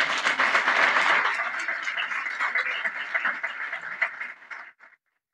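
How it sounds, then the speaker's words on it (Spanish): Church congregation applauding together, a dense continuous clatter of many hands that starts full and gradually thins before stopping abruptly near the end. "Un aplauso a la iglesia porque trae su Biblia"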